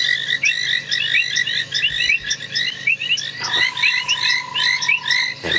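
A dense chorus of banded rubber frogs calls continuously nearby at sunset on safari, many short repeated chirping notes overlapping, with a steady insect-like tone joining partway through.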